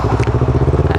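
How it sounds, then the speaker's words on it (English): A motorcycle engine braking as the rider closes the throttle, a loud, close, rapidly pulsing engine burble with a regular throbbing rhythm, heard alone. "That's the engine braking."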